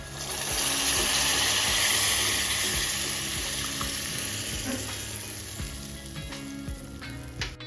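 Mango and cucumber dal is added to a hot tempering of curry leaves, chopped onion and green chillies, releasing a loud sizzling hiss that gradually settles while a spoon stirs and taps the pot nearby.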